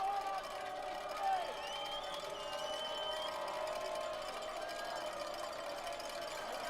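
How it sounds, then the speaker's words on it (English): Steady crowd roar at an RPI vs. Carnegie Mellon college football game as the home defense tries for a third-down stop, a dense, distant wash of voices filling the stands with no sharp peaks. "Crowd getting behind the defense right now as RPI tries to get a stop here on 3rd and 4."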